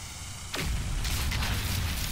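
Mining murrine in the video game No Man's Sky sets off a sudden loud explosion that bursts in abruptly after a quiet moment, then settles into a sustained roaring rumble.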